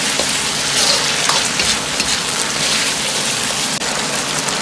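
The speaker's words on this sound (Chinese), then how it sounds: "倒入大葱，翻炒均匀，炒出香味" Scallions being stir-fried in a hot wok with green and red pepper slices for a pork liver dish, giving a steady, loud broadband sizzle and crackle that runs without pause and has no talk over it.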